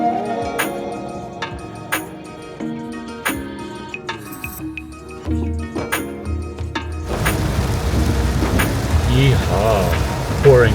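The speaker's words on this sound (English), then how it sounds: "Yeehaw! Pouring rain." Heavy rain pours outside during a road trip near Subic in the Philippines, a broad steady hiss that swells in the second half after some music fades.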